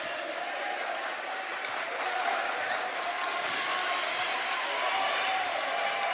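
A basketball crowd roars steadily through a high school game between Westside and Shady, a dense, distant wash of cheering and noise that never breaks.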